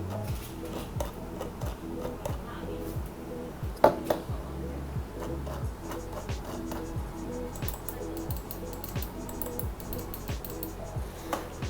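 A Rapoo X1800S wireless mouse scroll wheel ticks in fast, rattling bursts of small clicks throughout, close to the mic, with a few louder clacks mixed in.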